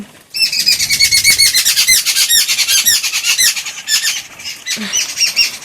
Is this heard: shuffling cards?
no